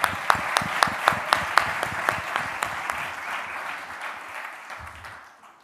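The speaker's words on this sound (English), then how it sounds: "A big round of applause once again for all of you." Audience applause for startups at a fintech demo day, a few sharp distinct claps ringing out over a softer crowd clapping that gradually fades away to quiet.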